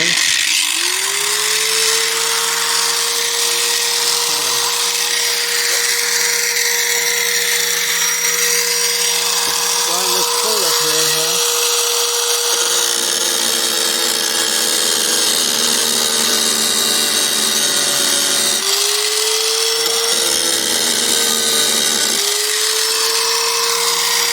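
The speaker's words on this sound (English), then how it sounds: "Looks like our grinder's running." An angle grinder cutting steel plate on an old abandoned semi trailer, its motor whining loud and steady throughout, dipping in pitch as the disc bites into the metal and then recovering, with someone speaking over it.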